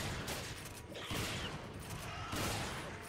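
Sustained gunfire unloading on a boss in the video game Resident Evil 5, a continuous rattling barrage of shots at moderate volume, with heavier pulses near the start and end.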